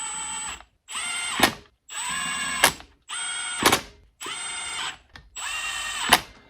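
An impact wrench runs on 12 mm bolts on a Honda Civic EF hatch in six short, loud, close bursts. Each is a whining motor rising in pitch and ending in a harsh rattling hit, separated by brief silences.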